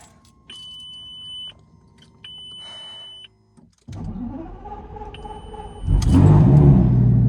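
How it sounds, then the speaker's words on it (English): A high electronic chime sounds in several separate tones, then a Lamborghini Gallardo engine cranks and catches, settling into a steady rumbling idle that grows louder. "let's start it up and see what's going on"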